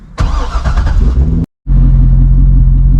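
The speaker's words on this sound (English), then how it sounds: "Fingers crossed, if I start the car," A Corvette C6 engine cranks and catches, revving loudly for over a second, cuts out briefly, then settles into a steady, close, loud idle rumble.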